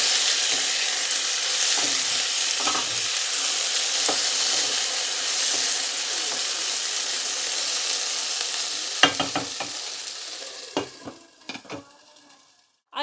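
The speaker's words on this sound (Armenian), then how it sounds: "Այս կարևոր է, որ լավ հարենք, որպեսզի փրփրի, բարձրանա տորթի նման" Cake batter being whisked until it foams: a steady swishing hiss for several seconds, then a few sharp clinks of a utensil against the bowl as it stops.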